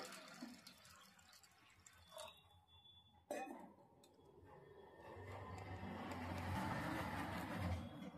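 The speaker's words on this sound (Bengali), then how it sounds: "দিয়ে দিচ্ছি পরিমাণ মতো জল" Water is poured into a pot of soaked dal while cooking egg tarka, a faint trickle that swells into a steady, louder rushing pour after a brief clatter.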